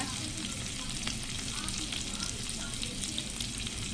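Peanuts tossed into puffed rice frying in a pan, a steady close sizzle with light crackles and scraping stirs, no speech over it.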